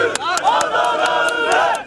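Crowd greeting CHP leader Özgür Özel in Adana, loud, dense cheering and chanting with rhythmic shouts and claps rising and falling throughout, close and continuous.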